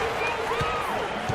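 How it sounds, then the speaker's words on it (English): Arena crowd noise at the Amway Center in an NBA basketball video game, a steady cheering roar under a commentator's voice. "the fans are cheering for their matchup"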